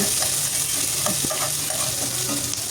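Onions browned with cardamom and home spices sizzle and fry steadily in a pan, with a few scrape-and-stir strokes through a constant bright hiss for aloo gosht.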